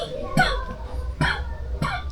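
Three sharp coughs spaced roughly evenly, close to the listener, with a faint murmur underneath.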